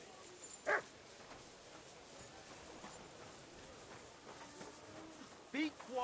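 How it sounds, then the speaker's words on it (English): A dog in Kingdom Come Deliverance 2 gives two short, sharp barks several seconds apart, over a low, steady background murmur. "What's with that barking?"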